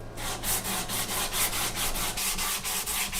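Acoustic guitar neck being sanded by hand with 150 grit sandpaper, with quick regular back-and-forth rasping strokes, close and continuous, no talking.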